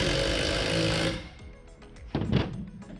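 Power tool driving bolts during assembly of a Craftsman dual wheel wheelbarrow: a loud sustained whirring burst for about a second, then quieter clanks and a short second mechanical burst.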